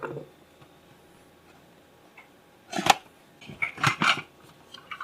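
Packaging for a Daiso 2-to-4-cup coffee dripper is cut open: a quiet stretch, then a few crisp snips and plastic crinkles clustered close up toward the end, with no talking.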